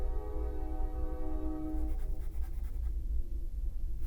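A train horn blares a sustained, steady harmonic tone for about two seconds, then cuts off, leaving a rumbling background of rail noise with no talking.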